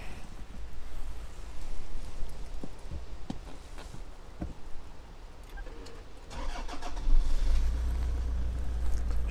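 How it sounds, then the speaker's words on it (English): A Toyota Land Cruiser engine cranks and fires up, first through rustling and handling noises, then catching into a low rumbling idle that grows louder toward the end. "Let's just start her up."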